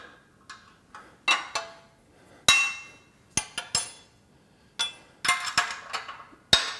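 A crescent wrench working bolts on a Body Solid EXM3000 gym machine, with sharp metallic clinks and ticks coming in irregular bursts, close by, each ringing briefly before fading, with no voices.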